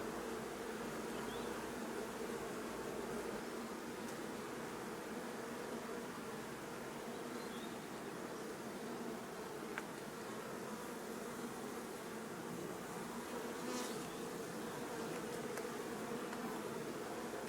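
Honeybees in a small nucleus hive during a frame inspection, full of brood and honey, produce a steady, dense, continuous buzz heard alone at low, even loudness throughout.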